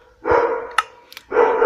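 A dog barks in the background in two loud, rough bursts separated by a short quieter gap, with a couple of faint clicks in between.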